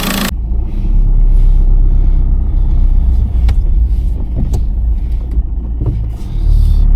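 Turbocharged vehicle fitted with a new turbo, EGR and delete kit, driven out on the road: a steady, loud engine rumble and road noise throughout, with a couple of brief hissing spikes.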